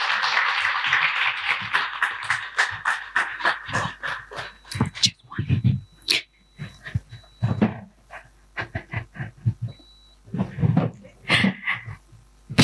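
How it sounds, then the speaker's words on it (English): Applause from a sustainability summit audience fades early, giving way to scattered handling knocks, thumps and brief voices as equipment is set up. "Keep clapping till she gets here"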